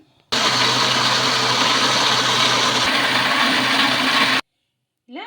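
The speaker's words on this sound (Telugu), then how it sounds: "మూత పెట్టేసుకొని మిక్సీ అయితే పట్టేసుకుందాం" An electric mixer grinder blending batter for instant ponganalu, a loud steady whir running for about four seconds before cutting off abruptly, with a brief pause and another start at the end.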